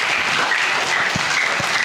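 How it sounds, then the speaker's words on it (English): An audience at a school learning event in Bangalore claps for the hosts and anchors, a dense, steady round of applause that stays loud and unbroken from start to finish. "can we have a round of applause for the hosts and the anchors as well?"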